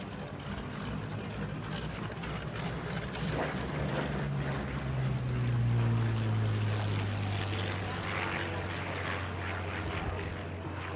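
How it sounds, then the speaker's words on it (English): Propeller aircraft roaring past at the National Championship Air Races in Roswell, New Mexico, during a Military Appreciation Day flyby. The steady engine drone swells as the planes draw near, peaks midway, then eases off. "Give them a big wave as they bring these beautiful aircraft by for Military Appreciation Day."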